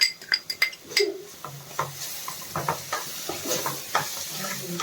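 Grated coconut being stirred into fried raw mango in a pan, with a run of clinks and scrapes from the spoon against metal and a soft sizzle underneath, fairly close and steady.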